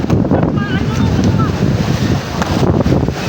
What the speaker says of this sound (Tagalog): Yan, medyo maalon-alon ngayon mga idol. 7 feet yata ang alon ngayon.